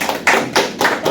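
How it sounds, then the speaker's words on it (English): Short round of applause for a wargame player, three quick bursts of claps close by, brief and sharp. "Give him a round of applause."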